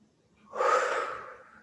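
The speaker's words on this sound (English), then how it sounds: "So again, exhaling with a sound." A single deep, audible exhale in a calm meditation session, a breathy whoosh that swells quickly and fades slowly, close and alone without speech.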